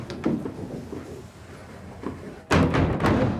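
A sack hoist bangs inside a Victorian flour mill: faint thumps early on, then a loud, sharp bang followed by rumbling, close by with no talk.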